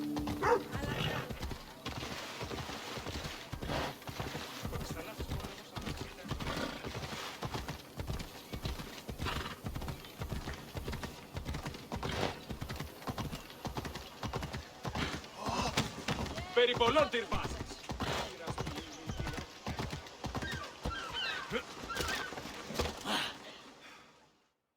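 Horse hooves clip-clop steadily in Assassin's Creed Odyssey, a rhythmic run of close, clear hoofbeats through most of the stretch, with occasional whinnies and character voices speaking over it.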